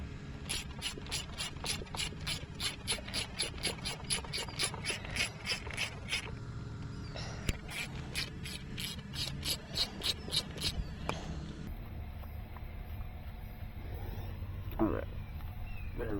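Repeated rasping strokes against metal as a bolt hole is widened during an A/C blend-door repair on a 1997-2014 Ford E-250 van, steady and close for about eleven seconds before stopping into quieter shop noise.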